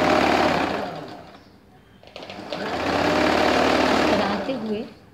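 A sewing machine runs a long straight seam along the side of a pair of straight-cut ladies' pants, its loud steady whir pausing briefly near the middle before starting again.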